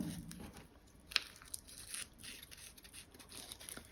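A thin plastic cling wrap sheet rasps and crinkles as a piece is pulled and torn off, with one sharp tearing snap followed by faint rustling, close and quiet.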